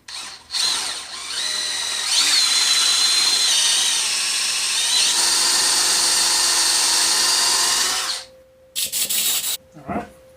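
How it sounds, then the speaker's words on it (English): A power drill bores a hole in metal to prepare a helicoil thread repair, whining loud and close for several seconds before spinning down, followed by a few short bursts. "So let's get the hole drilled."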